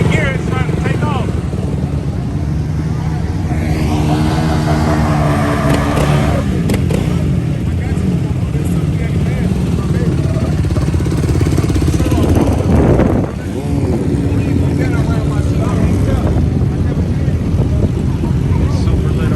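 A Yamaha YFZ 450R ATV engine idles high and rough, a loud, steady, close drone that holds for the whole stretch with only a brief dip near the end.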